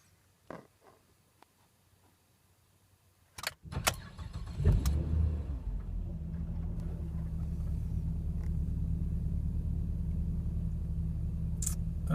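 A tuned car engine cold-starting on E85 fuel: a quiet pause, a brief crank, then the engine catches and settles into a steady, even idle that continues to the end.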